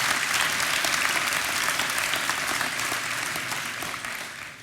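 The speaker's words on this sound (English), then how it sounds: "give a nice warm round of applause for Hannah, would you please?" A church congregation at Christ Community Church gives a warm round of applause for a guest, a steady, full wash of many hands clapping throughout without letting up.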